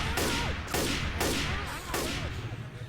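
Four heavy gunshot bursts boom in a roughly regular rhythm, each a loud broadband blast with a rumbling tail, close and dominant.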